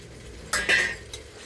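Tomatoes go into a pan for paneer biryani and are stirred, giving a brief burst of utensil scrapes and clinks against the metal over a faint background sizzle.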